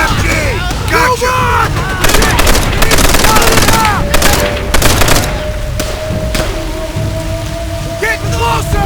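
Japanese machine gun fire in the World War II shooter World at War, loud sustained bursts of automatic fire with explosions and battle noise, while soldiers shout over it.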